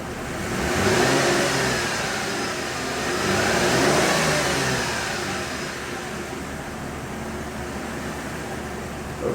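A car engine revs up twice, climbing and falling in pitch, then settles into a steady idle hum with a faint fan whir.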